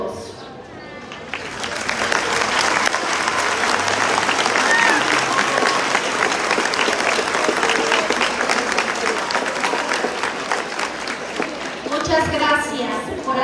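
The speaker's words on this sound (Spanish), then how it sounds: "el aplauso es para todos" Sustained audience applause at a school's 50th anniversary ceremony after a welcome speech, a dense crowd clapping loudly for most of the stretch before tapering off near the end.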